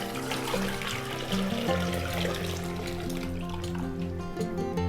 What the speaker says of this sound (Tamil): நான் வந்து சட்டுன்னு ஆகணும், வேலை சீக்கிரம் முடியணும் அப்படிங்கிறதுக்காக நான் வந்து வெந்நீர் சேர்த்துருக்கேன்